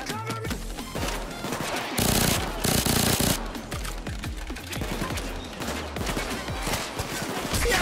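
Gunfire from a player shooting in a video game: rapid, continuous bursts of automatic fire with a louder, heavier barrage midway, loud and close throughout.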